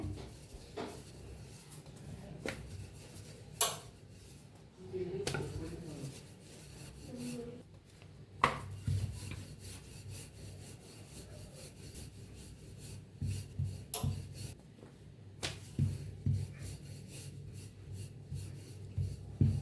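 Puran poli dough, made without refined flour, is rolled out with a rolling pin, a soft rhythmic rubbing and scraping with occasional knocks of the pin on the board, fairly quiet and close.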